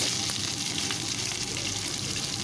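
Chopped onion hits hot oil already crackling with cinnamon, cloves, bay leaf and cardamom, giving a steady, dense, close sizzle that holds evenly throughout with no talking.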